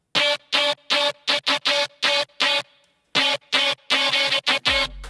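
A getter-style FM8 synth sound with its automation pulled down plays as a loud, stuttering run of short, bright, buzzy chopped notes. The run breaks for a brief gap, resumes, and closes on a deep low swell. No voices are heard.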